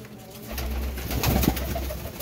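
Pigeons kept in pairs for sale coo in low rounded notes close by, layered over a busy background hum of the loft.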